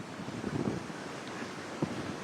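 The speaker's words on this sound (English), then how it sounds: "The waves are coming right up under the house there, here on Superior." Waves on Lake Superior surging under a house in a blizzard, a steady washing roar mixed with gusting wind buffeting the microphone.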